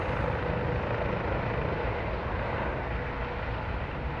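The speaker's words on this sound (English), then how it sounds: "Live flight's taking off from the VCU." A Life Flight medical helicopter lifts off from VCU, its engine and rotor making a loud, continuous roar that stays steady and close for the whole stretch, with no talk over it.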